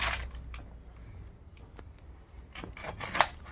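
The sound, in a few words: cutting boal fish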